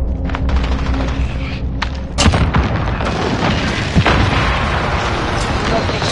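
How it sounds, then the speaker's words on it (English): Airstrike explosions in a video game battle, a series of heavy booms and crackling blasts over steady gunfire and battlefield noise, with voices talking at moments. "Airstrike inbound."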